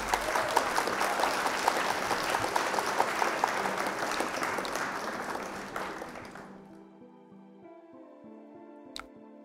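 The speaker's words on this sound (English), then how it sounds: "Round of applause for Super Breno." A round of applause during a live card-game stream, with steady, dense clapping that lasts about six seconds and then stops abruptly, leaving quiet with a faint click.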